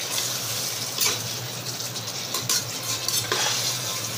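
Mutton sizzling as it is stir-fried for Bengali kasha in a pan, a steady close hiss broken by several scraping stirs of the spoon, with no voices.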